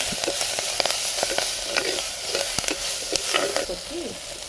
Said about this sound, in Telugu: కొన్ని వెల్లిపాయలు కొంచెం కొత్తిమీర వేసి కొంచెం సేపు వేగనివ్వాలి